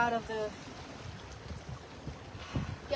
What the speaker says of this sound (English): you can hear me with all the wind